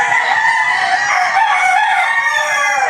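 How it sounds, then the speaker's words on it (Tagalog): Several roosters crow loudly and continuously at close range, their calls overlapping into a dense, raucous chorus. "Nagalit na yung mga manok."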